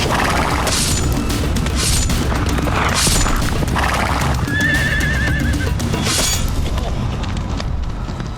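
Horses neigh and whinny repeatedly amid battle-reenactment commotion, with hoof clatter and dull booms beneath a steady, loud wash of crowd and field noise; a high whinny rises clearly near the middle.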